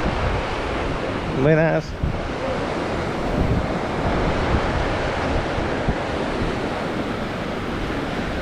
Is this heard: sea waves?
yes